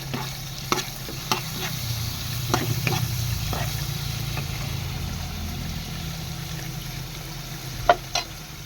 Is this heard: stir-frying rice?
yes